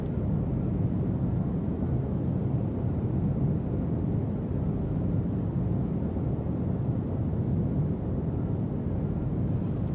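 Cessna 310 twin-engine aircraft on a touch-and-go landing, a continuous loud low rumble of engines and airflow, steady and close, without voices.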